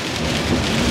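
Steady rain drums on a car during a rainy road journey through Wales, a dense, close, continuous patter heard from inside the vehicle for a brief moment.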